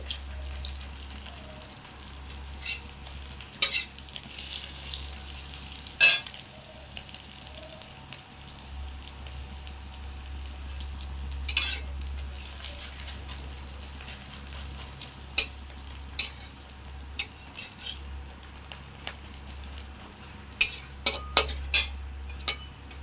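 Oil sizzles quietly in a pan as food fries, with a soft steady crackle and a low hum beneath, punctuated by sharp scraping clicks of a utensil stirring against the pan.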